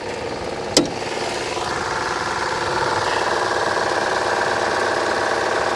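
An MG Midget's engine idles steadily and smoothly at close range, a continuous even hum with one brief click near the start and no talking.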